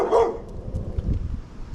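A dog named Chapo gives a single close, loud bark on command, followed by quieter low rustling and movement.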